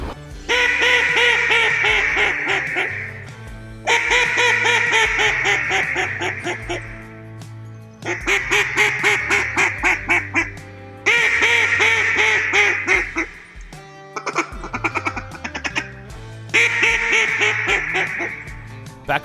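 A real hen mallard quacks in loud, rhythmic descending runs, followed by a Beckman Edison duck call imitating it in flooded Arkansas timber, six or so close, clear bursts separated by short pauses.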